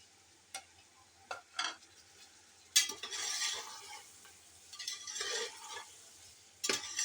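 Tomatoes and green chillies being sautéed for chicken pulao, soft sizzling punctuated by intermittent spoon scrapes and clinks against the pot, quiet and close with no talking.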